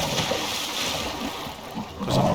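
A character wades into water in the survival game Icarus, producing a steady wash of splashing and churning water. It stays close and fairly loud throughout, with a stronger splash near the end and no talking.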